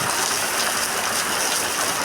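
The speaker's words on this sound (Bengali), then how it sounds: "সত্যি বাস্তবে ঝমঝম বৃষ্টি আওয়াজ বর্ষার বৃষ্টি" Heavy monsoon rain pours down in a steady, dense broadband wash, loud and continuous with no pauses.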